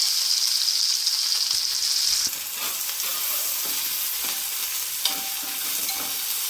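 Crushed onion and chili are added to hot oil with popped mustard seeds, kicking off a bright, steady sizzle. Scraping stir strokes and clinks of a spoon against the pan follow as the frying hiss settles lower.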